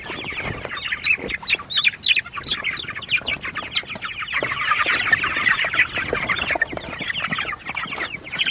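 Chickens cluck and squawk continuously nearby, a busy chorus of overlapping calls with no talking.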